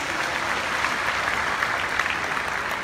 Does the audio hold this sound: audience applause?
yes